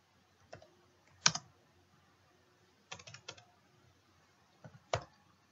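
Keys clatter on a computer keyboard in short bursts of clicks with pauses between, close and fairly quiet, as Java code is typed.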